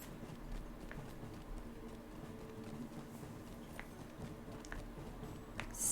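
Faint in-game horse hooves clip-clop in LOTRO, light irregular footfalls sounding over a quiet ambient background, with a slightly louder knock near the end.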